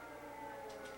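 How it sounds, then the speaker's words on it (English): An air raid siren sounds over Kyiv during wartime, a steady sustained wail heard from a distance, continuous and fairly faint for the whole second. "when there's a siren like that going off, there's bunkers obviously all over the place"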